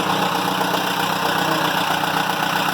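A Perkins 4.108 diesel engine on a Vagabond 39 sailboat runs at a steady idle, a loud, close, continuous rumble with a rapid regular knocking pulse and no talk.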